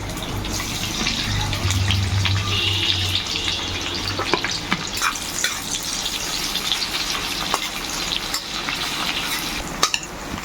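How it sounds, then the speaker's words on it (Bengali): Chopped onions fry in white oil and ghee in a kadai, a dense continuous sizzle with occasional stirring scrapes and clatters, close and steady throughout. "আমি কড়াতে কিছুটা সাদা তেল আর ঘি গরম করে নিচ্ছি, আর এর মধ্যে আমি পেঁয়াজ কুচিগুলো দিয়ে ভেজে নেব"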